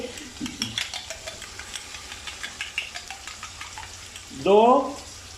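Chicken and spices frying (bhunai) for chicken yakhni pulao, a soft steady sizzle with faint stirring scrapes throughout, then a brief louder burst of bubbling hiss near the end as something wet is added to the pot.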